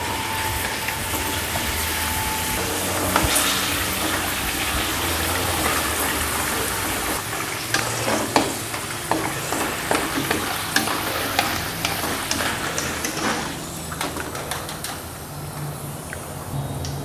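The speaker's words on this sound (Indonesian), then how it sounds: "kalau minyaknya sudah panas, kita goreng aja langsung ya" Cassava shrimp-flavored crackers frying in hot oil in a wok, a loud continuous sizzle with bursts of crackling and scraping stirs as they puff up, close and steady.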